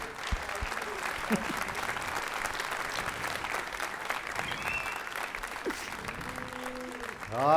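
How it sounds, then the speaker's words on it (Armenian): A studio audience on a television talk show claps steadily at moderate volume, with voices mixed in and a louder voice rising at the very end. "Օնոյին մի հատ բարձր ծափարենք"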